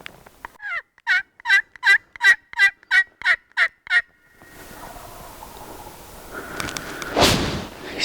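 A wild turkey gobbler in big woods gobbles in a rapid run of about ten loud, evenly spaced calls, then falls silent as rustling movement noise builds up close by.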